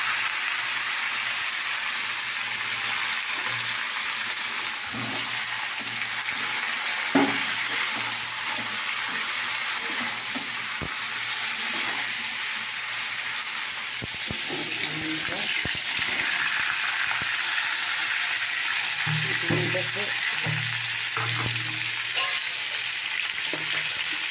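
Potatoes fry in oil with bay leaves in a pan, giving a steady loud sizzle throughout with occasional stirring clinks and scrapes, while a person talks intermittently over the cooking.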